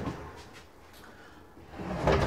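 A closet sliding door in an 8x26 Craftsman tiny home in the forest opens with a short, close scrape and rumble near the end, following a quiet stretch of faint room noise.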